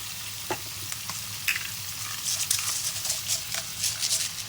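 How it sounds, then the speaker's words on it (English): Shrimp sizzling with garlic in a hot pan for gambas al ajillo, a steady crackling fry with occasional louder spits and pops, close and continuous with no talking. "And we're going to cook our shrimp."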